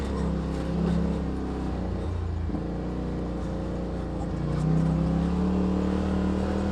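A 2018 Polaris RZR XP Turbo drives through snow in low gear, a steady, droning engine hum with a slight rise in revs partway through and no talking.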